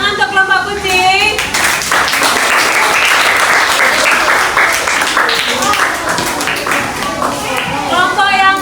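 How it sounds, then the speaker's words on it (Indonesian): A classroom of children claps for a group of classmates after their presentation, steady dense applause throughout with a teacher's voice speaking at the start and end. "Tepuk tangan untuk kelompok kucing."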